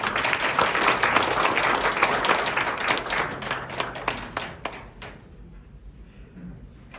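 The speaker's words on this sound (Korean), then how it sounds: "큰 박수 부탁드리겠습니다." Audience applause at an AI assistive technology seminar, dense clapping from a crowd that fills the hall for about five seconds, then thins out and trails off into near silence.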